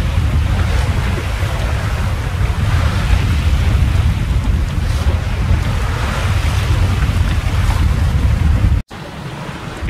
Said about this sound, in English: Going down the channel at 8 knots at the moment